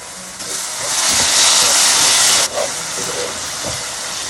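Steam hissing loudly as the lid comes off a cooking pan of mushroom and egg curry, a sustained close rush that swells and then cuts off abruptly, followed by quieter residual hiss and light clatter.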